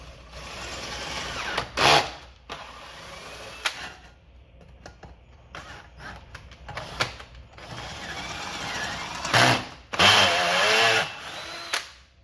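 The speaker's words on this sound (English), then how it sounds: "I lower the torque on the drill down just to make sure that I don't overstrip it." A cordless drill set to low torque buzzes in short and longer bursts between quiet stretches, driving screws into a Johnson short-shaft outboard motor, nearby, with clicks and handling noises in the pauses.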